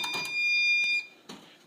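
A fire alarm panel's piezo trouble buzzer sounds a steady, loud high-pitched electronic tone for about a second, then cuts off, followed by a brief clunk.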